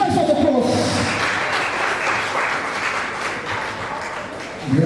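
An awards-show audience applauds steadily as a guitarist is welcomed on stage, the clapping from a sizeable crowd filling the hall and slowly tapering, with a voice briefly heard near the end.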